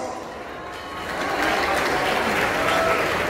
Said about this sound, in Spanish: Este aplauso para acompañarlo.